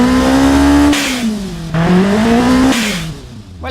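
A muffled car engine in the Automation car-building game revs up and holds, drops back, then climbs again in two long pulls, steady and close with no talking.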